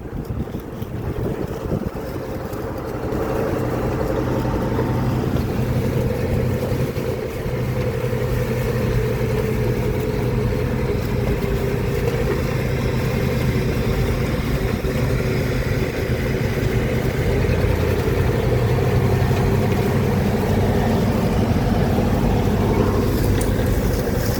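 A combine harvester works a field with a loud, steady low engine drone and mechanical rumble, heard up close alongside heavy wind buffeting, continuous for the whole stretch with no talk.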